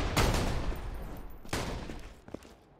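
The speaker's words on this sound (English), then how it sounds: "Who's over there shooting?" Borderlands 2 video game gunfire: a burst of loud shots opens the clip, another sharp volley follows about a second later, then a lone crack near the end, all close and dense with no talk.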